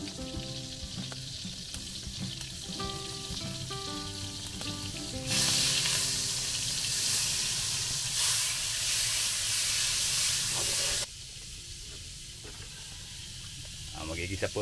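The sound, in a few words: sautéing garlic and onion in margarine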